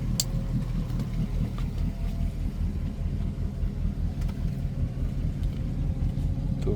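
A motorboat engine drones steadily as the boat cruises back to port on the Croatian coast, a constant low rumble with water wash and a few faint ticks, no talk.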